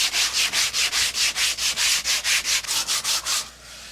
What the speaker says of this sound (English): Some 80 grit might do a little better for us there.